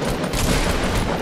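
Rapid gunfire from a Fortnite match crackles in a dense, loud burst of overlapping shots lasting the whole short moment, with no talk over it.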